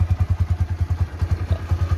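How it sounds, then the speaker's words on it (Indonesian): A Yamaha MP Primus motorcycle idles at a stock, factory-original tune, its exhaust giving a steady, bassy low thump about eight beats a second with a faint metallic jingle above it, close and alone. "suaranya itu agak kayak ngebas dan ada suara jering-jeringnya. Jadi khas banget seperti ini untuk stasionernya ya."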